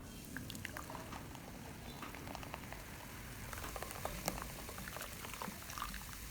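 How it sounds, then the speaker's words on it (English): 7-Up soda fizzing in a large bowl, a soft, quiet bed of bubbling hiss scattered with tiny pops and crackles throughout. "Pour the 7-Up into a large bowl."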